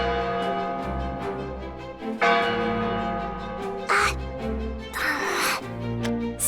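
A bell rings out over a music-heavy game soundtrack with bird caws mixed in, the tones ringing and layered with brief bright bursts, moderately loud.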